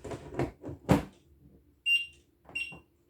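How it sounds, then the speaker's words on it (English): Two short high electronic beeps from a fire alarm panel, evenly spaced, following a stretch of close talking. "There's that single beep."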